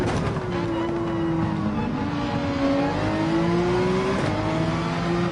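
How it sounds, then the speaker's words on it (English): A GT3 race car in Gran Turismo 7 at the Barcelona circuit, engine held at full throttle with a steady loud drone that climbs in pitch through the gears, continuous and close throughout. "we need to go full throttle through here."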